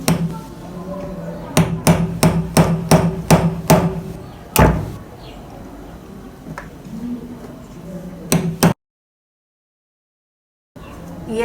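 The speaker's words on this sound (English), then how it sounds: "I'm going to use the hammer to hit on the knife" Sharp hammer blows on the spine of a knife cutting into a catfish head: a quick run of about seven evenly spaced strikes, a heavier knock, then one or two more, each a crisp close thwack.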